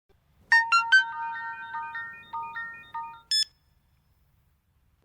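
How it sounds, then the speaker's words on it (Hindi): A phone ringtone plays a short melodic tune of repeated tones, rings on for a few seconds and then cuts off abruptly, left unanswered during a dubbed South Indian film scene, with no talk over it. "अब फोन नहीं उठा रहा है। 2 रिंग पर कट कर रहा है"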